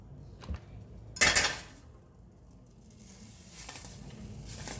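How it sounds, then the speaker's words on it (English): Butter drops into a hot pan for pasta sauce, a sharp burst of sizzling after a couple of soft clinks, then settles into a quieter, steady bubbling hiss that slowly grows. "I'm going to add some butter."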